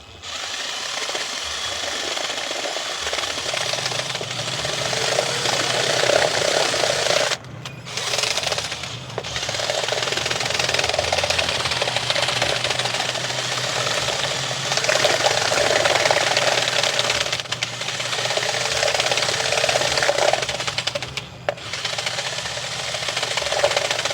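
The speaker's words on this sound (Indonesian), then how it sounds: "setelah kita tuangkan tepung, kita adukkan pakai bor biar nggak capek." An electric drill fitted as a mixer whirs steadily, close and moderately loud, stirring takoyaki batter of flour and water, with a couple of brief stops and restarts and no talking.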